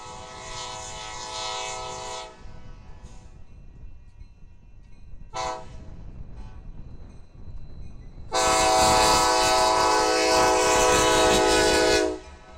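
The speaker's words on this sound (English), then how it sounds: "A KCS SD70 is leading a train of old CP ballast hopper cars" A KCS SD70 locomotive leading a train of old CP ballast hopper cars through Houston at 4 a.m. sounds its horn in loud blasts (long, short, then a long one) over a low rolling rumble.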